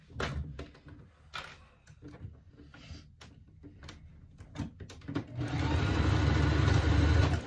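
A sewing machine stitching a backstitch on a fabric bag: scattered close knocks and handling clatter, then a sustained loud mechanical whirring run of stitching toward the end.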